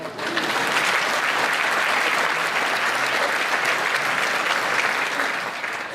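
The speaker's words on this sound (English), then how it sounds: "Let's clap for that." Audience at a drug awareness summit applauds steadily for six seconds, a dense, even wash of many clapping hands that holds at a fairly loud level throughout, with no voices rising above it.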